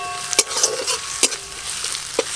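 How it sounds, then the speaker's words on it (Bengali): Chopped ginger, garlic and onion frying in hot oil in a pan for a potato-filled snack, a steady close sizzle broken by several sharp scraping stirs of a spatula, with no talking. "আদা রসুন পেঁয়াজ ভালো করে ভাজা ভাজা হয়ে গেছে"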